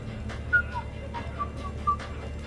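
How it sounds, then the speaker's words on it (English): A character in the video game Mass Effect 3 whistles a few short, light notes in a loose rhythm. The whistling is fairly soft and sits over a low background hum. "Are you whistling?"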